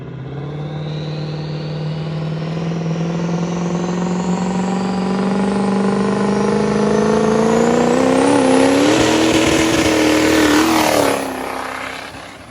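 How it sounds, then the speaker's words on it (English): A 1000-horsepower Ford Ranger truck fitted with a 6.0 Powerstroke diesel builds from a low drone into a loud rising roar as it approaches and passes close by, pitch climbing, then fading quickly after the pass. "he's gonna be trying to do a flyby here and hopefully light it up right by the camera"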